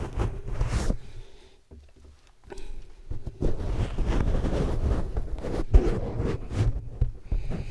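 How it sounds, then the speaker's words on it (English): A wind muff being pulled off and swapped on a Lauten Audio LS-208 microphone, heard right at the capsule as loud, uneven rustling, scraping and soft thumps with a short quieter gap, no talking. "I'm going to switch the wind muff right now to the one that came with it"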